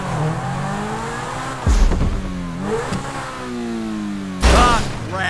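A car's engine in GTA 5 revs hard and climbs in pitch through several gear shifts, with two heavy thumps from impacts or landings, all loud and up close.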